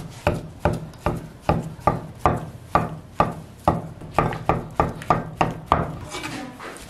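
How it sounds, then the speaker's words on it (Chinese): A knife chops steadily through thousand-layer tofu on a wooden cutting board, about seventeen crisp, evenly spaced strokes ringing out close and clear with no voices. "准备两个千叶豆腐，改刀切成片"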